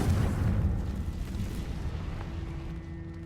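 A Confringo spell explosion in the video game Hogwarts Legacy bursts with a deep, loud boom at the start, then rumbles and fades away over a few seconds.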